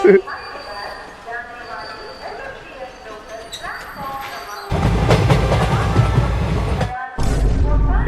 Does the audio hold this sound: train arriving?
yes